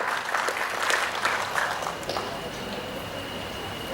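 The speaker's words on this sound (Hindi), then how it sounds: "हाथ खोलिए, तालियां बजाइए, दुगना होता है हमारा भी उत्साह।" Audience applause at a Hindi comic poetry gathering at Kala Mandir in Bhilai, a dense burst of clapping that is loud at first and gradually thins out over several seconds.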